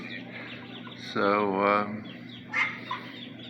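Baby ducks give a couple of short, rising peeps and a brief call nearby, with a soft murmur between them.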